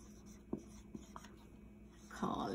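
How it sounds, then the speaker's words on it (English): A pen or marker writes a name by hand on paper, faint quiet scratches and taps spaced irregularly, with a slightly fuller scrape at the end. "let me write his name down"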